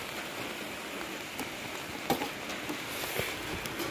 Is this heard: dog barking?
no